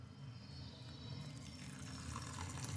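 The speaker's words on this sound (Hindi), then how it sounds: "अब इसमें हम डालेंगे गर्म पानी।" Hot water poured steadily onto rice and lentils in a kitchen while making instant idli, a continuous soft gurgling stream that grows slightly fuller.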